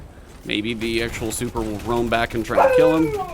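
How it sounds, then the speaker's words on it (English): Husky dog giving yips and whining, howl-like vocalizations mixed in with a man's speech during gameplay, fairly close and loud. "I am sorry about my dog barking"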